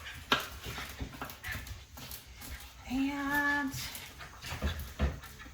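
Pet dogs play at home, yipping and giving a drawn-out whine amid scuffling and clatter, fairly quiet, with a brief voice heard.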